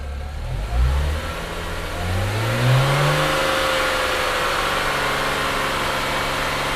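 A BMW N54 335i engine fitted with a Chinese 17T hybrid turbo revs up right after its first start, climbing from a low rumble then holding a steady raised speed, loud and close with no talking.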